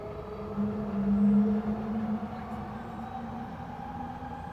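Trains roll past in a steady, continuous rumble with a sustained low hum and a brief swell in loudness early on, then a constant drone; no one speaks.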